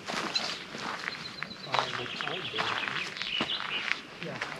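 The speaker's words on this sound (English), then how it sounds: "You hear the birds." Faint bird chirps sound outdoors at Trollsvannet lake in Vestfold, Norway, over soft footsteps and quiet voices nearby.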